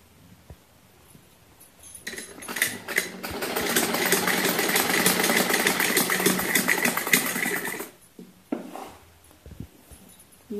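Sewing machine stitching the back seam of a semi Patiala salwar, a rapid steady whirring run of about six seconds between quiet handling noises, close and loud.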